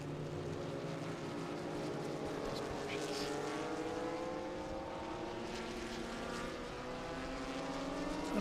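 Vintage race cars on the Road America circuit, a steady engine drone with pitches slowly rising and overlapping as the field accelerates, heard from a distance beneath a commentator talking.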